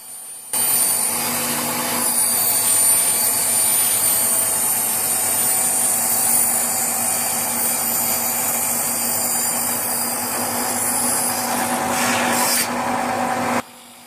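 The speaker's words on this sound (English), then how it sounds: "My resident expert cut the packers freehand on his saw." An old saw cutting wooden window packers freehand runs as a loud, steady high-pitched whine that starts abruptly, holds for about thirteen seconds with slight changes as the blade bites, then cuts off sharply.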